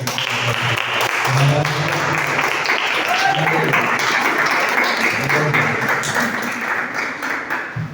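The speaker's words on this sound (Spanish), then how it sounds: "Vamos a dar una ofrenda de palmas al Señor." A church congregation claps and applauds together in sustained, dense rhythm for several seconds, with voices mixed in underneath.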